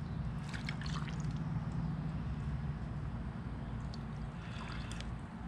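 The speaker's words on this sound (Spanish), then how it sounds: "le voy a poner como unas 2 o 3 copas de agua a la mitad" Water is poured into a cooking pot being set up to steam beef for tacos, a soft, steady trickling pour that stays fairly quiet throughout.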